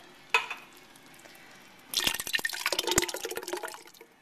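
Crushed tomatoes pour from a can into a pot for an Italian red clam sauce, with a short clink and then about two seconds of wet, glugging splashes close by.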